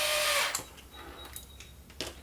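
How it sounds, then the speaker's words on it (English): A small power driver whirs briefly, then light clicks and short bursts follow as the last screws are tightened into the RC EYE NovaX 350 lower frame, faint and close with no talk. "So let's tighten these last couple of screws down."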